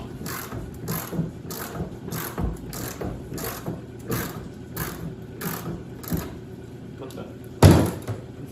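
Bauer impact wrench working a stuck bolt on an old snowmobile, a series of short, evenly spaced rattling bursts at moderate distance, ending in one louder hit.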